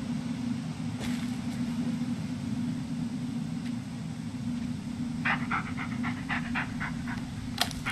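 Steady, close breathy panting of a dog in the Blair Witch video game, continuous throughout over a low rumbling background, with a few faint clicks and taps near the end.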